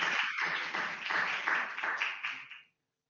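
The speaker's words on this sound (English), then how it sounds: "you could hear the applause from the audience" An audience applauding after a talk at a circular economy and fashion business forum: steady, moderately distant clapping for more than two seconds, then a sudden stop into silence.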